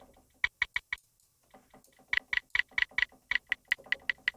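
Short, bright percussion click sample placed in a reggaeton beat, a brief run of four clicks, then a pause, then a longer steady string of evenly spaced ticks, close and crisp with no talking.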